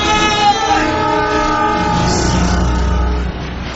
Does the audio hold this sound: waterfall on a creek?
no